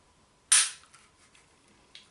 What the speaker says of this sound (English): I can pull the trigger here for you